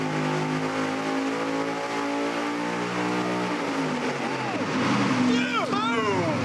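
Supercharged, nitrous-fed big-block Chevy engine making 1,500 horsepower roars on a dyno, a loud sustained wail of dense harmonics that drops off near the end, with excited voices shouting over it.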